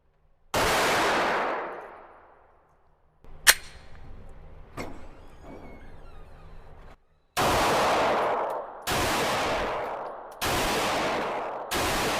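Glock 45 Gen 5 pistol fired on a range: five loud, sharp shots with ringing tails, one early and four later in quick succession, and a couple of fainter clicks and clinks between them.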